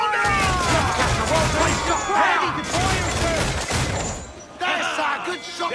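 Ship cannon broadside firing in the video game Assassin's Creed 4: Black Flag: a dense run of heavy booms and crashing impacts, loud and close, with crew voices shouting over the barrage.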